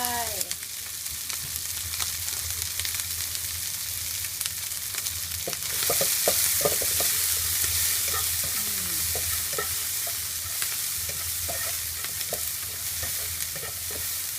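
Small shrimp fry with garlic in a hot pan, sizzling steadily up close while a utensil stirs and scrapes them around with intermittent clinks and rustles.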